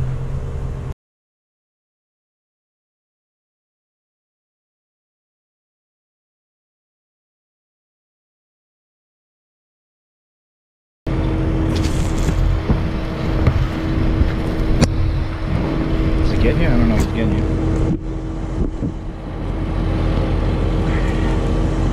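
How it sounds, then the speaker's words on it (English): A backhoe on a septic system installation site moves with a steady, loud engine rumble and churning noise after a long stretch of silence, running continuously with a few clanks over it. "we got to move this thing, the backhoe"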